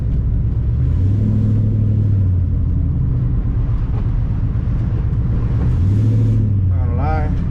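A lowered, LS-swapped car drives along with a deep, rumbling engine note that rises in two clear revs, loud and close from inside the cabin, with brief talk near the end.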